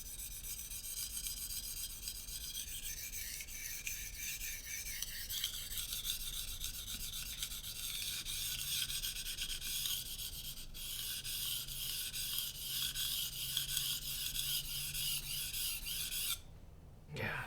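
Steel knife blade stroked repeatedly across an oiled Arkansas sharpening stone, giving a steady close rasping rub with no pauses, ending in a brief break before one last stroke.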